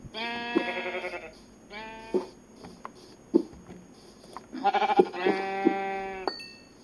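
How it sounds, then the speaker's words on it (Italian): Several bleats from sheep in the Minecraft video game, sounding as two separate bursts of close, harmonic-rich calls with short pauses between them, loud and clear with no talking over them. "pecore."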